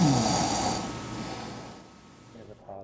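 A person snoring, a breathy, rasping drone that is loud at first and fades away, with no talking.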